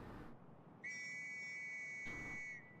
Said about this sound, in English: And there's the go whistle.